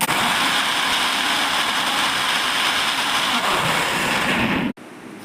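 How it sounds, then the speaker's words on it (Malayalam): A mixer grinder blending lemon soda with sugar in its jar, a loud, steady motor whir running close and continuous before it cuts off abruptly near the end. "ഇനി നമുക്ക് പഞ്ചസാരയും കൂടി ഇട്ട് കറക്കി എടുക്കാം"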